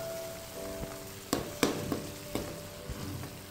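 Pureed tomato going into a pan of frying onions for a paneer curry, a steady hiss of sizzling with a few sharp clatters of stirring and spoon knocks against the pan, close and fairly loud.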